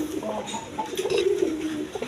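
Pigeons cooing on a farm selling breeding pairs, Arabian breed among them: a steady low, throaty cooing rolls through the whole stretch, close and fairly loud, swelling mid-way into a longer burbling coo.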